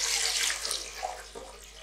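Water pours and splashes into a pot or bucket being filled for an ice lantern, a steady close hiss and gurgle that eases slightly toward the end.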